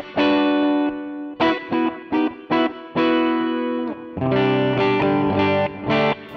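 An electric guitar played through a MOOER GTRS on a clean patch with reverb and delay rings out in sustained chords and short plucked phrases, notes trailing into soft echoes.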